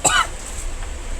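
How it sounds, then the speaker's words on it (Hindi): A single sharp cough from smoke inside a shop, close and loud, followed by a quiet smoky room tone. "खांसी होगी भाई, इतना धुआं हो गया।"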